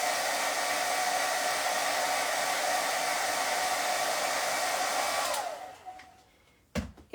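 A hair dryer blows on wet chalk ink on a paper tag, a loud steady whoosh that runs for about five seconds, then winds down and shuts off, followed by a couple of handling knocks.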